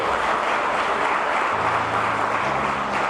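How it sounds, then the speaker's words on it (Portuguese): A church congregation applauds during a sermon, giving a dense, steady wash of clapping throughout, with a low sustained tone joining in beneath it partway through. "Dê um aplauso a Jesus se você entendeu isso."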